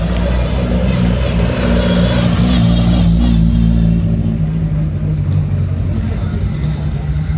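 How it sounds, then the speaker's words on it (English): Ford Cortina driving past at the Goodwood Revival, a steady low engine rumble that swells and then fades as it moves away, with crowd noise around it. "Oh, look at that, a"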